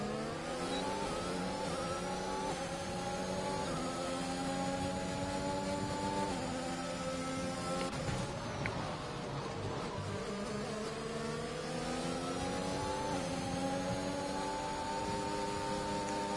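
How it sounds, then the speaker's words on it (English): Race car engine in a sim racing game at Bahrain, revving continuously with rising and falling pitch as gears shift, loud and steady throughout, a brief dip near the middle before climbing again; no talk. "revving out this engine"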